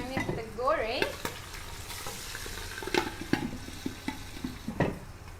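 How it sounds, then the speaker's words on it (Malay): Shrimp sizzle in a hot pan while a utensil stirs and scrapes them, giving a constant frying hiss broken by repeated sharp scraping strokes at close range. "so udangnya kita goreng"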